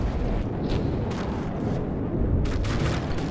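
Cram cannons in the naval combat game From the Depths fire, a few deep booms within a thick continuous rumble, loud and muffled, with no voices present.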